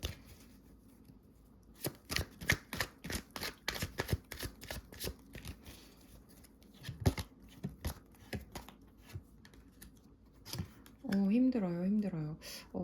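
Tarot cards being shuffled and drawn at a table, giving a run of close, crisp card slaps and flicks spread across the clip, followed near the end by a short burst of a voice.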